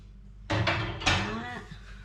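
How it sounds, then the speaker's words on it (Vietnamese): A metal cooking pot clanks and scrapes as it is handled while oil goes in for homemade popcorn, a few close, bright knocks in quick succession with a faint ringing tail and light talk nearby. "Đây tôi cũng vẫn bỏ một chút xíu dầu vào trong"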